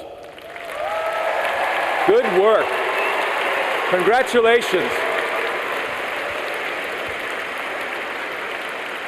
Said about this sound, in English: this is where we do that thing where you give yourselves a round of applause